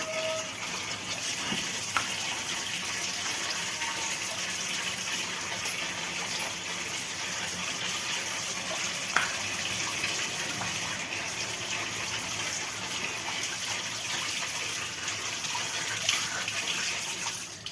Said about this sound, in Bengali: এই বেরিয়ে গেছে মাছগুলো, এই যে সবগুলো ধুয়ে নিই।